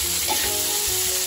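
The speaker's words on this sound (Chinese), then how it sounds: "然后我把这个豆腐放进去，翻炒一下。" Teochew beancurd stir-fried in a hot pan, a dense continuous sizzle with faint scraping of the spatula, loud and close with no voices.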